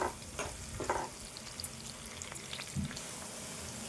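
Chopped onion frying in a pan for Telangana chicken soup, stirred with a few scraping strokes over a steady low sizzle, close and moderately quiet.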